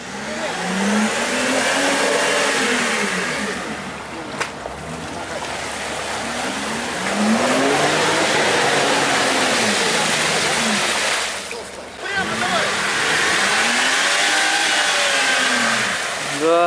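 A heavy Mercedes G-Class SUV on unlocked tires forces through a deep puddle without a snorkel, its engine revving in long rising and falling surges with water churning and splashing, loud and close.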